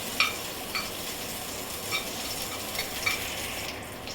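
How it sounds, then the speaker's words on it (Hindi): Green chillies frying in a pan with a pinch of cumin, a steady soft sizzle running throughout with a few light clinks of a spoon stirring, close and alone without any voices. "ये हो जाएगा तो इसमें हरी मिर्च डाल देती हूँ। इसे अच्छी तरह भून लेती हूँ।"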